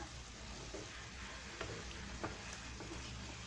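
Onion cooks in a pan with water, oil and butter, giving a faint, even sizzle with soft bubbling and a few light stirring clicks. No one speaks.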